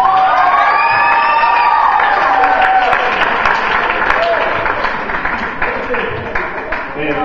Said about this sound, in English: I think you should give your leaders and your coordinators a round of applause